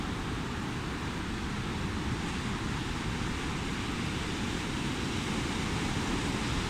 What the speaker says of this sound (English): that wave out there is about 9 feet, I'm guessing